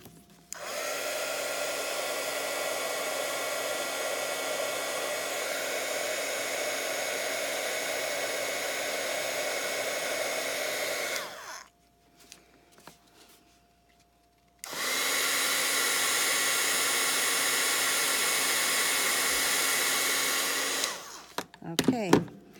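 An embossing heat tool blows a steady, loud whooshing hum for about eleven seconds while melting embossing powder on a watercolor card, stops briefly, then runs again for another stretch before cutting off.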